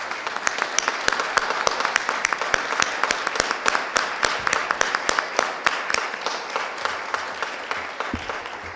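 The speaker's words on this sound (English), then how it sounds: "let's give a big round of applause and congratulations to Alderwoman Kara Spencer" A city Board of Aldermen meeting audience applauds steadily, many hands clapping together in a dense, sustained wash that tapers slightly toward the end.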